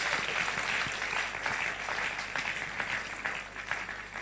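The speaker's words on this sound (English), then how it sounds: "clap for yourselves" A gathering of young people claps for themselves at a Nigerian meeting about Peter Obi and INEC, fairly faint, steady group clapping with a low hum underneath and no clear talk.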